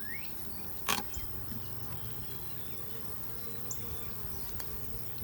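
A steady hum of many honeybees buzzing close by around a hive, with a brief sharp clack near the start.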